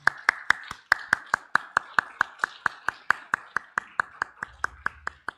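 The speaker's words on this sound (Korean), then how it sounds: "함께 박수하시겠습니다" A church congregation claps together in celebration, honoring an elder's years of service: a steady, even run of sharp claps, about four or five each second, close and clear throughout.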